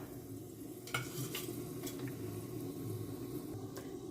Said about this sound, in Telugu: 4 to 5 టేబుల్ స్పూన్ ఆయిల్ కొంచెం హీట్ అయ్యాక మనము ఒక 4 లవంగాలు, బిర్యానీ ఆకు, దాల్చిన చెక్క వేసేసుకుందాం.